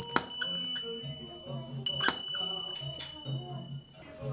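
A bell rung aboard a P&O Iona cruise ship sounds twice in bright, ringing strikes about two seconds apart, each followed by a lingering metallic decay over quiet background murmur.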